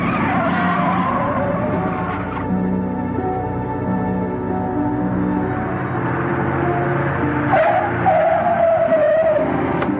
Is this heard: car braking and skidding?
yes